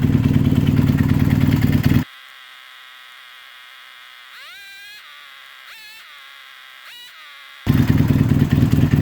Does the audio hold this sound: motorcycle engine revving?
yes